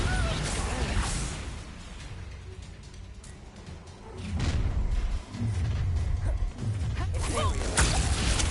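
Bombarda blasting spell explosions in Hogwarts Legacy, several broadband bursts around the middle and late part of the clip over a steady rumbling game soundscape, with speech present throughout.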